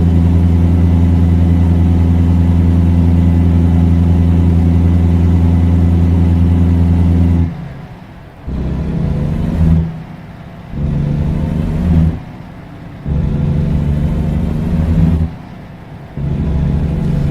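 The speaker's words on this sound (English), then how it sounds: "As I start to give it more gas and power, we're able to start shifting and go over this incline." Heavy truck engine in American Truck Simulator, a steady low idle-like drone for several seconds, then revving in repeated bursts with brief dips between gear shifts as the rig climbs an incline.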